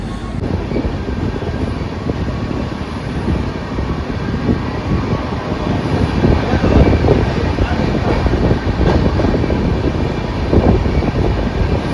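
A steady rumble of a moving passenger express train, with low rattling and rolling noise that swells slightly midway, heard continuously from inside or close by.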